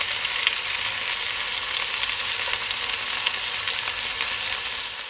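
Chunks of beef for goulash sear in a hot pan, giving a loud, steady sizzle and crackle that runs close and unbroken throughout.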